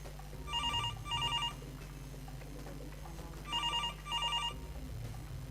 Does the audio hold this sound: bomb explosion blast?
no